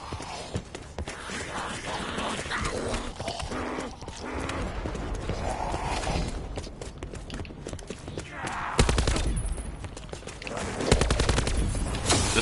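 The Hades gun firing in Black Ops 4 Zombies on the Blood of the Dead map, rapid bursts of automatic gunfire with game effects and a voice talking over it throughout.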